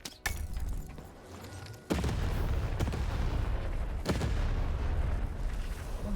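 Cannon fire in the video game Lost in Random, heavy booming blasts with one big onset near two seconds and further sharp reports later, loud and sustained with rumbling under a dense game soundscape.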